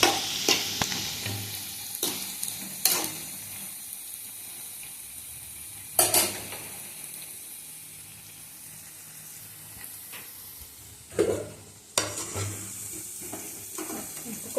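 Pakoda fritters frying in hot oil give a steady sizzling hiss throughout, broken by a few sharp spattering bursts and stirring clinks near the pan.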